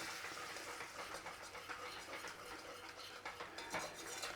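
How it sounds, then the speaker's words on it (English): A whisk scrapes and swirls steadily through a butter and flour roux in a pan, a quiet, continuous rhythm of metal strokes over a soft sizzle. "Start whisking it round."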